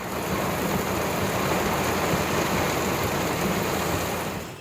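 Heavy monsoon rain pours down steadily in Saurashtra, Gujarat, a dense, constant roar of drops with no pauses, loud and close throughout.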